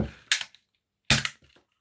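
A four-shot Quattro-Streik repeating crossbow firing, with two sharp, close snapping releases about a second apart, each trailed by a brief rattle, in otherwise quiet surroundings.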